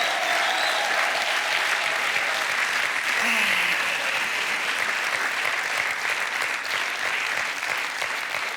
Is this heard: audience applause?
yes